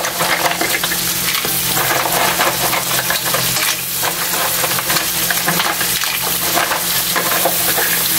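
Shrimp and mussels fry in a pan with cream and butter, giving a loud, steady sizzle that crackles without pause from start to finish, with no voices.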